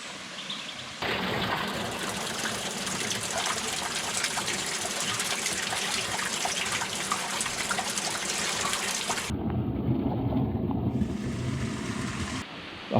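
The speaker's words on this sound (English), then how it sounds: "After picking up the path to Dungeon Gilly waterfall, I was shocked at how little water was coming down the mountain" Water spills down Dungeon Ghyll waterfall in the mountains at low flow after a dry spell. The rush is steady and close, with a change in tone partway through, and no one speaks.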